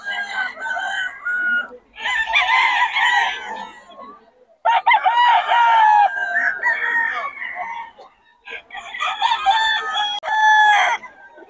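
A Sweater bloodline gamefowl rooster crows loudly and close several times in a row, each long strained call separated by short pauses, with faint clucking between.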